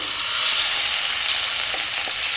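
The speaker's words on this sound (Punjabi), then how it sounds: "ਜਦ ਤੱਕ ਆਪਣਾ ਮਸਾਲਾ ਭੁੱਜਦਾ ਵਾ" A thick spice paste sizzles and roasts steadily in a hot pan, a constant bright crackle close by with no talking.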